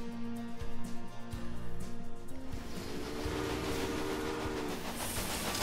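A train passes in the Railway Empire video game, a rumbling, clattering rush that swells into a broad wash of noise, with a rhythmic low thumping early on and no talk.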